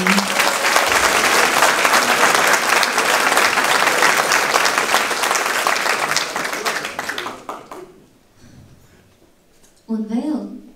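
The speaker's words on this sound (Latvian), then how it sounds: "Aplausi visiem dejotājiem." Loud, dense audience applause for folk dancers at an anniversary concert, sustained for about seven seconds before fading out, after which a voice speaks.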